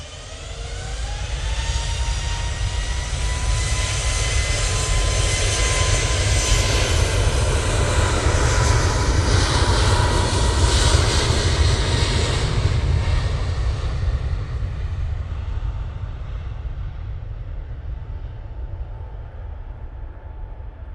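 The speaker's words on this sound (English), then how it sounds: "Just had the Aer Lingus arrive from Belfast" An Aer Lingus ATR 72 turboprop arriving at Manchester from Belfast, a loud sustained engine roar swelling and then slowly fading over about twenty seconds, no voices.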